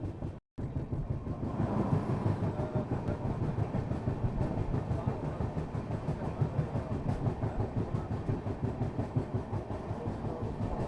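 Sairang Rajdhani Express passenger train running on the Delhi–Kanpur main line, a steady loud rumble with a regular clickety-clack of wheels over rail joints throughout, after a very brief dropout at the start.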